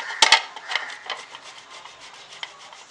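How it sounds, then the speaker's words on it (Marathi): Boiled potatoes are rubbed against a hand grater in a home kitchen, producing a few close, rasping scrapes with uneven strokes and no talking. "सर्वात पहिला आपण बटाटे आहेत ते किसून घेणार आहोत."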